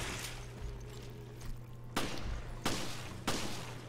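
Gunfire aimed at a creature in Resident Evil Revelations, with a steady low hum underneath and three sharp, broadband shots spaced evenly in the second half, fairly loud against the background.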